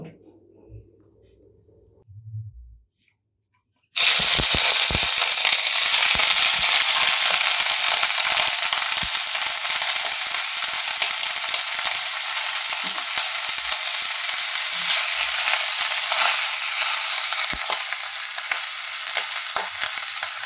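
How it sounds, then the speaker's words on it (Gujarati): Vegetables frying in a pan for a Gujarati broccoli sabzi with peas and garlic-ginger paste: a few seconds of quiet handling, then a sudden loud, steady, close sizzle that carries on unbroken. "એકાદ મિનિટ માટે આપણે આને ફ્રાય કરી દઈશું"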